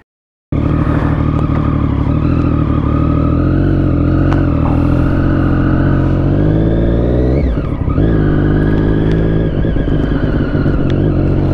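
A motorcycle rides along the road to Foxdale on the Isle of Man, its engine droning loud and close with a steady harmonic tone and a brief change of revs partway through.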